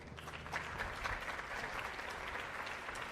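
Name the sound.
audience applause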